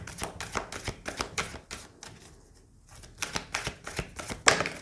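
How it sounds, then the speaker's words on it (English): A deck of cards being shuffled by hand, a quick run of crisp riffling flutters, a short pause, then another burst of rapid papery ruffles, close and fairly quiet with no talking. "Let me just shuffle again."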